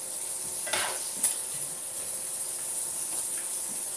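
Chicken thighs searing in a hot pan for a Provençal-style dish, a steady bright sizzle with a couple of faint utensil clinks, close and continuous.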